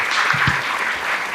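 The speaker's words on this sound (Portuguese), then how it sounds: "Salva de palmas para os nossos convidados do primeiro ato." Applause from an audience for guests at a Christmas podcast special, a dense, steady burst of clapping throughout.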